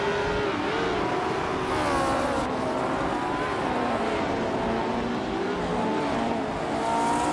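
A 1961 Cooper T55 race car in a racing video game, its engine droning continuously with shifting revs and gear changes, steady and fairly loud with no talk.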